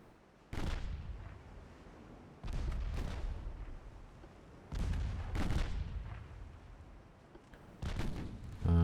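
Warship secondary guns in Ultimate Admiral Dreadnoughts fire in four heavy booming salvos, each a sharp blast that rolls into a long rumbling decay, spaced a couple of seconds apart with no talk.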